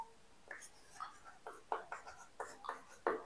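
Pen or pencil writing a word by hand on paper during a Bengali English-grammar lesson: a series of close, soft scratchy strokes in short bursts, with faint whispery breath between them.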